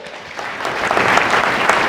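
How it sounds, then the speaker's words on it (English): A conference crowd breaks into applause for a team from Europe, the clapping swelling from a moderate start into a fuller, louder wash of many hands within a couple of seconds. "So a big round of applause for our team from Europe."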